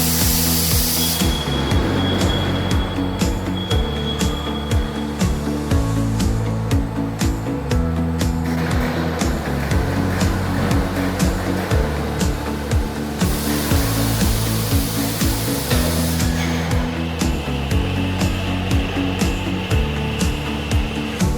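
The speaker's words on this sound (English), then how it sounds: "workshop for the tube cutting machine, auto loading system with the side mounted chuck" Fiber laser tube cutting machine with an auto loading system and side-mounted chuck in a workshop, a loud continuous mechanical whir with repeating rhythmic servo and clunk cycles, steady throughout.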